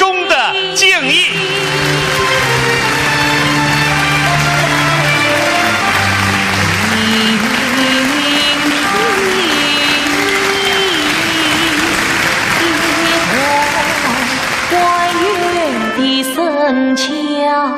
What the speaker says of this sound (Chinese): 让我们再次用热烈的掌声表示我们由衷的敬意